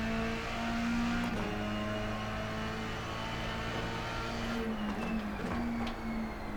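A race car laps the Road America circuit in a racing simulator game, its engine holding a steady high-pitched drone with gear changes and pitch shifts, sounding moderately loud and unbroken, with no talk.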